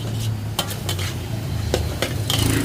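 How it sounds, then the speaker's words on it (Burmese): Pork stir-frying in a pan gives a steady sizzle with repeated scrapes and clinks of a utensil against the pan, close and fairly loud throughout. "ကျွန်တော်တို့အရင်ကြော်ပေးပါမယ်"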